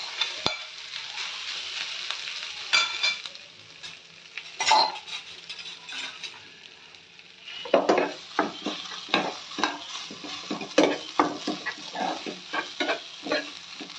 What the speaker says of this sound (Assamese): অলপ আমুল ঘিউ দিছোঁ ঘিউত ভাজি লৈছোঁ